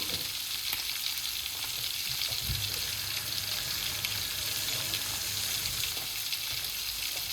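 Salmon fillets sizzle gently and steadily in a hot pan on the stove, a soft continuous frying hiss with no talking.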